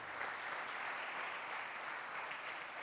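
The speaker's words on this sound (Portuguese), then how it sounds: "Aplaude o Senhor bem forte." A church congregation gives a continuous, even wash of applause at a family worship service, with no pauses and no talking over it.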